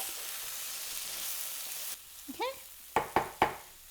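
Pointed gourd and potato curry with red chili powder and salt sizzles steadily in a pan, then a spoon scrapes and stirs it in three or four sharp, close strokes.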